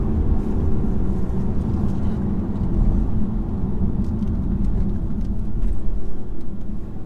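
A 2018 BMW 430d coupe with a 258 horsepower diesel cruises along, its steady low engine drone blending with constant road and tyre rumble from inside the cabin, with no talk.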